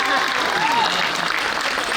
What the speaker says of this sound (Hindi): ताली बजा दो, बजा दो।